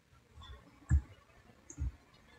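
Two distinct computer mouse clicks about a second apart, sharp and close against a quiet background, with no talking.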